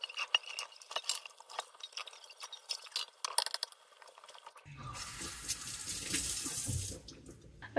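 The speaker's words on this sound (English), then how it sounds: "I'm done washing the dishes" Dishes being washed at a kitchen sink: scattered clinks and knocks of crockery, then a tap gushes steadily into the basin for the last few seconds, close and fairly soft.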